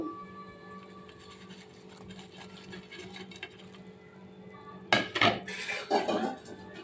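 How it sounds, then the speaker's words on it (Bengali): Fried pabda fish go into a pot of simmering curry: a quiet bubbling background, then a cluster of loud metallic clinks and scrapes of pan and utensil near the end. "এবার আমি ভেজে রাখা মাছগুলো দিয়ে দেবো"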